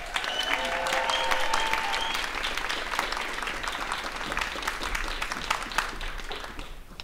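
Warm audience applause at an indie orchestra concert, a dense, steady clatter of many hands that holds strong and then tapers off at the end, with a few faint tonal sounds early on.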